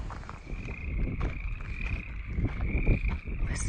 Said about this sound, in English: Listen to these crazy frogs.